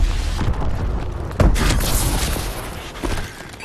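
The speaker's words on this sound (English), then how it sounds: "Friendly missile strikes incoming." Heavy booms from missile strikes in the Call of Duty: Advanced Warfare video game roll through a constant battle rumble, with one sharp blast near the middle and a smaller one near the end.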